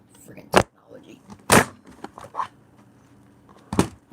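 A Dell Inspiron 640m laptop being slammed and banged, several sharp hard thumps spaced a second or two apart amid softer handling clatter, with a person talking in between.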